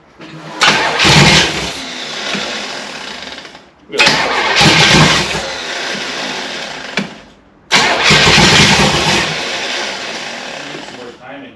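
A 1966 Chevrolet Biscayne V8, freshly through cam break-in, cranks and fires three times in a row, each start settling into a loud, rough, noisy idle before cutting off, with a voice speaking briefly.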